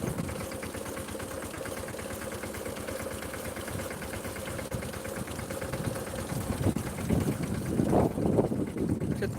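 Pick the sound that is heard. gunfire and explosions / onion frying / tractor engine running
tractor engine running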